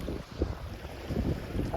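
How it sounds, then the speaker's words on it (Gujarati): Gusty cold wind at sea buffeting the microphone in low, rumbling bursts over a faint wash of water, loud and continuous without speech. "ઠંડો ઠંડો પવન આવે દરિયામાં"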